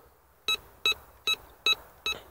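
Five short, evenly spaced beeps from a Nel Tornado 12x13 coil on a Bounty Hunter Land Star metal detector passing over a 1 grosz coin buried 27 cm down, each tone crisp and clear against a quiet background.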